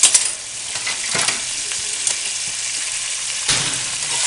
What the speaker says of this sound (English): Stir up your flour.